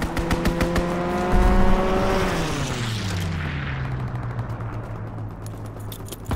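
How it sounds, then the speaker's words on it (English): A fighter plane swooping in on a strafing run in Call of Duty: WWII, with a loud engine roar dropping in pitch as it passes, layered over rapid machine-gun fire. "Fighter pilot inbound, strafing the target."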